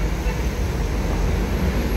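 A steady low rumble of a passing light rail train heading to Jakabaring mixed with road traffic noise, a broad continuous roar at moderate distance.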